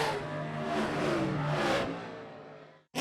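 A race car engine revs loudly and continuously for nearly three seconds with shifting pitch, then cuts off abruptly before a brief burst resumes at the end.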